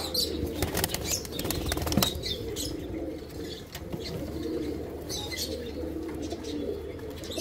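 Teddy pigeons beat their wings in a steady, busy flutter throughout, with faint coos and chirps mixed into the flapping and no one talking.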